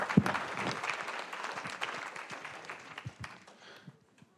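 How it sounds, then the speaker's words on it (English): A live audience claps for election candidates at a local get-to-know-the-candidates forum, dense applause that builds quickly and then thins out, fading to near silence by the end. "Let's give our candidates a round of applause"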